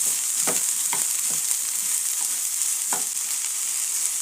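Okra stir-fry crackles loudly in a hot pan as a spatula turns it, with a constant bright sizzle and several distinct scraping strokes spaced about half a second apart.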